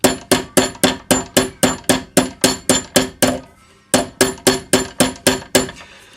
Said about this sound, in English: I'm using a French jeweler's hammer, and it's because I want a thin wedge on this